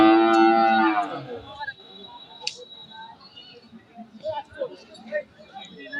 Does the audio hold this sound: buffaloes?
yes